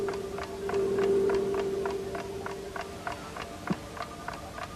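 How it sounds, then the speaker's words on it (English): A clock ticking as heard through the focusing hollow of an umbrella, a steady series of soft regular ticks over a faint hum, with no talking. "That's why you can hear the ticking again."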